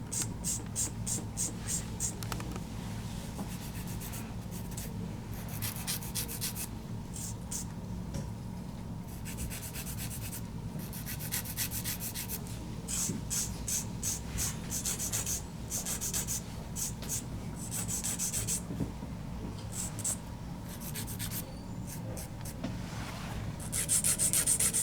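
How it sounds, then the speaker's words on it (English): A nail file works over gel nail extensions, giving rapid, repeated close-up scraping strokes in short bursts separated by brief pauses, quiet but steady throughout. "once you're done filing this whole hand"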